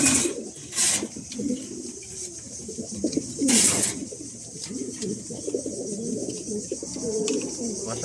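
Pigeons paired up in a loft coo steadily throughout, low repeated rolling calls close by, with a few brief louder bursts of noise breaking in.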